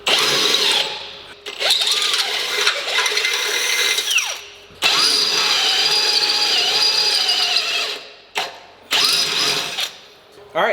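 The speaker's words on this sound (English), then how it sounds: "We'll do a pilot bit, and then I'll work my way up to a 3/8, and then we'll finish it off with a 9/16 hole." A power drill bores a pilot hole, then 3/8 and 9/16 holes, for bolt-on traction bars: loud whining, grinding runs broken by brief pauses and restarts, close up with no talk.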